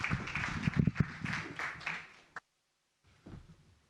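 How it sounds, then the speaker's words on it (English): An audience at a panel event on biotechnology claps for a couple of seconds. The dense, fairly quiet applause fades out abruptly, then faint clapping or shuffling follows after a short silence. "Let's give him a round of applause."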